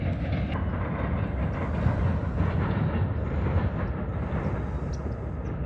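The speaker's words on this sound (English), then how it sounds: "There goes the train." A train rolls past near Fort Macomb outside New Orleans, Louisiana, a continuous low rumble with faint rhythmic clatter, moderately distant and steady throughout.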